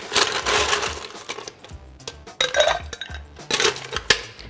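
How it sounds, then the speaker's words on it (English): Ice cubes clatter and clink into a cocktail mixing glass for a stirred 50-50 martini made with hibiscus-infused gin, in a quick series of close, bright knocks and rattles. "And then I'm going to get some ice in there."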